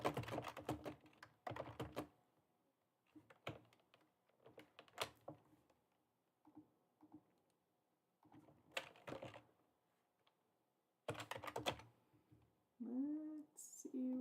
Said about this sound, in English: I'm just going to type a message.